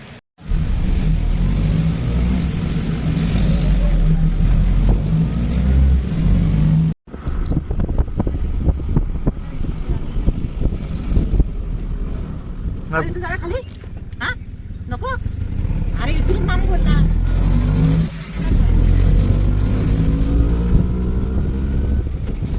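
An auto rickshaw driving along, its engine droning loudly and continuously with revving, a brief cut near seven seconds, and faint voices now and then.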